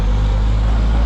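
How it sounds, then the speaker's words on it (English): Steady road traffic rumbles close by, a dense low drone of passing vehicles that holds at a constant loud level with no voices on top. "I'm sorry about the traffic here."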